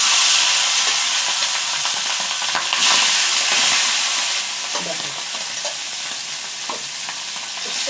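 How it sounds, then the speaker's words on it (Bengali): Fish pieces for a Bengali fish curry fry in hot oil with a loud, dense, continuous sizzle and hiss that eases slightly toward the end, close up and with no voices. "হ্যাঁ, তেলটা আমার গরম হয়ে গেছে, মাছগুলো ছেড়ে দিই।"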